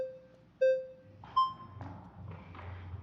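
Short electronic beeps from a timer during a debate, two clear tones a moment apart, with a higher ping after them, over faint murmuring talk and soft thumps.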